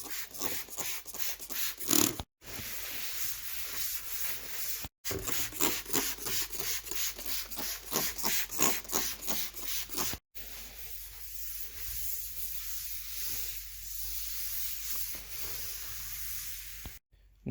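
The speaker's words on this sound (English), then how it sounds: "Let's get it wiped down." A cloth or pad wipes down a countertop in a garage with quick rhythmic back-and-forth rubbing strokes, steady and close, broken by a few brief pauses.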